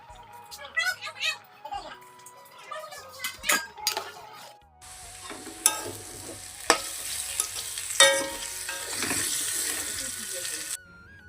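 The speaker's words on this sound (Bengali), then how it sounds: "মুগ ডালটা আমি একবারে ভাজা করে নিয়ে জল ঢেলে দিচ্ছি" Water poured into a pan of fried moong dal with a burst of sizzling, followed by spoon stirring and scraping against the pot, with clinks of utensils beforehand, all close by.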